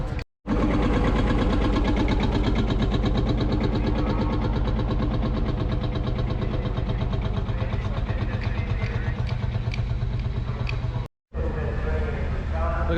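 A Land Rover engine runs at a Scottish transport show, a loud, close, steady rhythmic chug that cuts out twice briefly.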